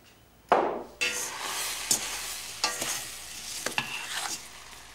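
Jelly and jam cooking in a pot, stirred with a utensil: a sudden scraping swish followed by a series of clinks and knocks against the pot. The sounds are moderately close and irregular.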